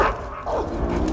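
A dog barks and yelps repeatedly in Metal Gear Solid 3: Snake Eater, the sound close and continuous over a low game background rumble.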